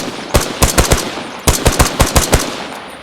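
Gunfire in the video game Arma Reforger at full volume: two loud bursts of rapid automatic shots, about five or six rounds each, separated by a brief pause, with no talk.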